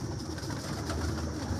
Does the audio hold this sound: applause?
no